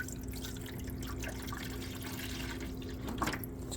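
Liquid trickles and splashes steadily into a GE Opal nugget ice maker, Gen 2, a continuous close pouring sound over a faint mechanical hum.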